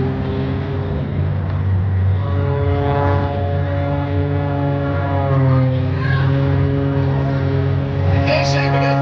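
An MX2 all-carbon-fiber aerobatic propeller airplane flies at the 2022 Dover Air Show, its engine a loud, sustained droning hum that shifts in pitch as it passes, while people talk over it.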